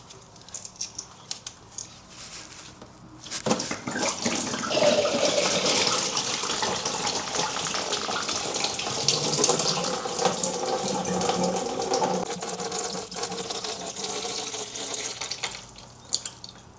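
Coolant from a Hayabusa motorcycle's expansion tank pours out in a steady splashing, trickling stream that starts after a few quiet seconds, holds fairly loud for about twelve seconds and then tapers off.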